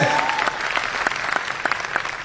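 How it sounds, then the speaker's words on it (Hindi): An audience at a Modicare business event applauds with a steady mix of claps, fairly close and continuous, and a few sharper individual claps stand out. "तालियां होनी चाहिए कि नहीं होनी चाहिए?"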